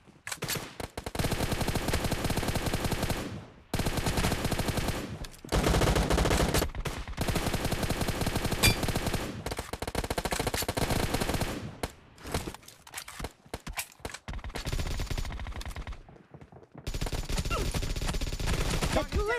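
Rapid bursts of automatic gunfire in a BGMI team deathmatch, loud and sustained in long volleys broken by brief silent gaps, with game sound effects mixed in.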